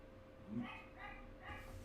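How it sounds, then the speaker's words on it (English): A few short, muffled dog barks and yips, fairly faint and somewhat distant, spread across a couple of seconds. "Joan, stop barking."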